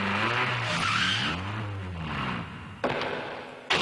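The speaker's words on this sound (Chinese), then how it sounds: "记者目击一场车祸" A car skids on a street with long squealing tire tones that bend in pitch, followed by two sharp bursts near the end, loud and close.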